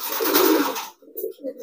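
A wild pigeon being trained coos close by, a soft rolling murmur, then a couple of short low coos after a brief pause.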